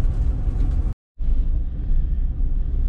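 A Cadillac Escalade driving on a snowy road, giving a loud, steady low rumble of engine and tires that cuts out to silence for a moment and then resumes.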